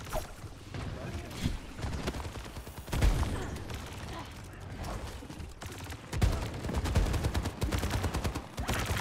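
Rapid automatic gunfire from small deployed turrets during an Overwatch match on a control map, bursts of chattering shots repeating over busy game noise and commentary.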